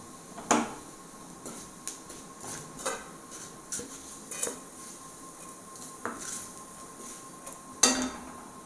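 Roasted grated coconut is scraped from a pan onto a plate while making a bitter gourd tamarind curry: about ten light, sparse metallic clinks and scrapes of a spoon against cookware, quiet and close, with no talk.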